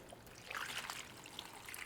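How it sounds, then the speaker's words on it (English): Marinade trickles and splashes into a plastic bag holding pork belly for a quick Christmas ham, a soft, continuous liquid pour heard close up with faint crinkling. "Put in our marinade,"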